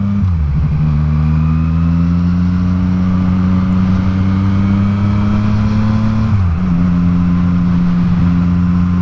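A car runs a red light while accelerating hard, its engine droning loud and close with rising pitch and one brief dip as the gear shifts before it climbs again.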